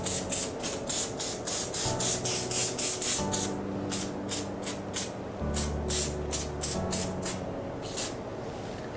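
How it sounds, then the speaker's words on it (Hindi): Hair spray hisses from an aerosol can in a rapid series of short bursts onto a man's hair, loud and close, with a steady low hum underneath. "10 सेंटीमीटर का गैप रख के ऊपर पूरा हेयर पे स्प्रे करना है"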